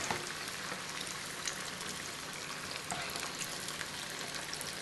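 Toffee-apple pieces fry in hot oil with a steady, close hiss and crackle of bubbling fat, a continuous dense sizzle without talk.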